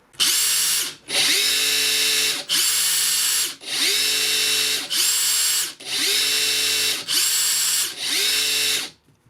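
A Makita 40-volt cordless impact wrench whirs in a series of short trigger pulls, revving up and stopping repeatedly with a high, steady motor whine, close and loud.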